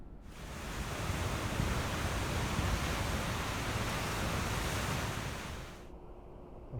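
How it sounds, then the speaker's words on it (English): Water rushes out through an opened gate to lower a barge at a river lock in January, a broad steady roar that swells in, holds, then fades away at the end. "I can hear the water starting to let it flow out to lower the barge"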